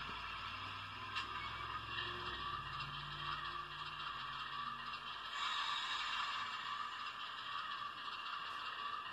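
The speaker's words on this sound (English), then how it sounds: "there's the independent brake. There's release of it." Model train sound decoder in an Atlas Dash 8-40B locomotive plays an independent brake release as a steady hissing air rush over a faint mechanical rumble, swelling briefly louder near the middle.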